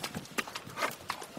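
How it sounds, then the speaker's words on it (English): Horses carrying loads of fresh-picked marijuana plod home in rural Colombia, their hooves clip-clopping in an uneven rhythm of soft knocks against a steady background hiss. "where horses plod home, weighed down with fresh-picked marijuana."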